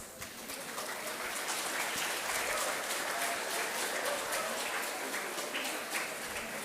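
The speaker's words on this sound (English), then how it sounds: "I request the audience to please cheer for the students." Sustained audience applause and cheering at a medical college white coat ceremony for students, a steady dense crowd clapping that holds at full strength throughout with no talk.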